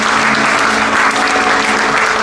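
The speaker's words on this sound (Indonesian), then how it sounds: "Boleh kita beri tepuk tangan yang terbaik." A church congregation claps steadily and fairly loudly at a Sunday service, the applause filling the hall evenly without a break.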